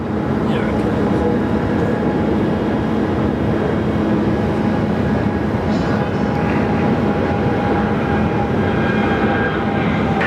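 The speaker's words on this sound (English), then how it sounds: "look at that beautiful shape of an aircraft" A jet aircraft roars loudly and steadily at Sydney Airport, a dense continuous rumble with a faint high whine layered on top.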